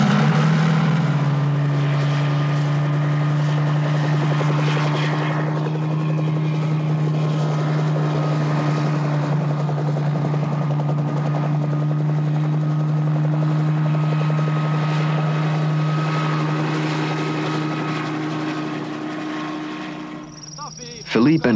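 A helicopter flies overhead on an aerial reconnaissance over a Florida spring region, its loud, steady rotor drone holding constant for about twenty seconds before fading slightly near the end.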